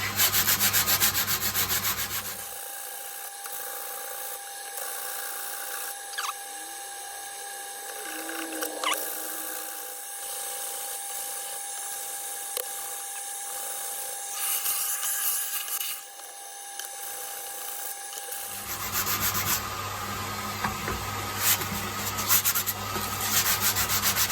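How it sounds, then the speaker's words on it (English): Steady scratchy rubbing of black sandpaper against a guitar's wooden top, continuous and close, with a louder mechanical hum at the start and end. "I don't want the black sanding material to colour the wood too much."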